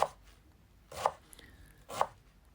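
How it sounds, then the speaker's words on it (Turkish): Three slow, evenly spaced knife chops finely cutting spinach on a cutting board, each a crisp close thud separated by quiet pauses. "ıspanağımızı gayet ince bir şekilde doğrayalım."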